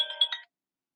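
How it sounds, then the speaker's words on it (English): A phone ringtone for an incoming call chirps in a brief melodic burst of a few quick electronic tones, clear and alone, then cuts off into silence. "I received a call, and that's it."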